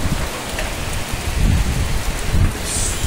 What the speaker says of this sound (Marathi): पाहू शकताय किती जोरात पाऊस आलाय.